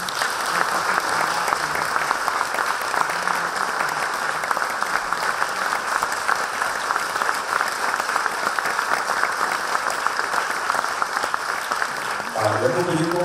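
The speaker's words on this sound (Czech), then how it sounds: "Potlesk pro ně." A crowd at a monument unveiling applauds two singers with long, dense, steady clapping at an even loudness, and a voice briefly enters near the end.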